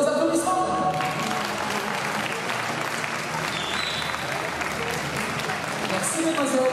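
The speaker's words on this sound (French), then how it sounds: "C'est l'heure des applaudissements." A crowd at a gymnastics awards ceremony claps in a loud, sustained burst that fills the whole stretch evenly, with no voices rising above it.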